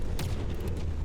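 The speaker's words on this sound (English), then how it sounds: "we got some explosions in the air here" Explosions bursting in the air during a From the Depths battleship tournament battle: a quick cluster of muffled booms and cracks over a rumbling low background, lasting about a second.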